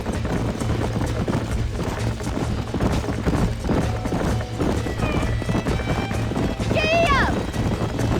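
Horse hooves clip-clop steadily at a trot in the Western game Red Dead Redemption, with a horse whinnying near the end, under a continuous background of game ambience and spoken dialogue.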